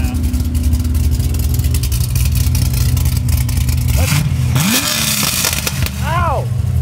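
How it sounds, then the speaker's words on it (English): A cammed LS7 V8 rumbles with a loud, lopey idle and then blips its revs near the end, with people talking over it and briefly exclaiming. "That's a very different sound. A cammed LS7."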